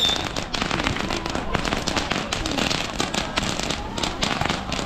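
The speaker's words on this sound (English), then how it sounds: "So this is how they do the fireworks here" Fireworks set off during Chinese New Year in Macau, with dense, continuous crackling and sharp pops bursting close by throughout, loud and sustained with no pause.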